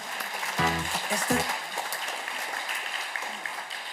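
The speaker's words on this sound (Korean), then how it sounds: "박수 하시겠습니다." A church congregation applauds after a youth dance performance, a continuous crackling patter of many hands. Voices speak briefly over it early on.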